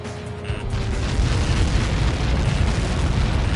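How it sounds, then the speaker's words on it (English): A huge blast from a Helios projectile impact in the flight combat game Ace Combat 7 rolls out as a loud, sustained low rumble and roar that fills the clip without voices. "How many got caught in that explosion?"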